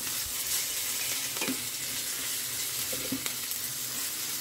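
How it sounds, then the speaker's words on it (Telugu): Chilies and curry leaves fry in a pan with a steady, even sizzle throughout, punctuated by a few soft scraping stirs. "ఇక ఇప్పుడు మిర్చి కూడా మంచిగా ఫ్రై అయినాయి."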